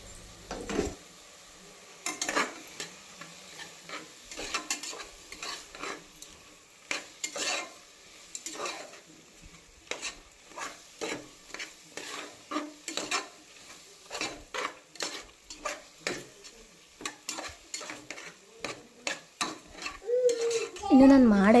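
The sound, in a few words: stirring cut vegetables frying in pan for pulao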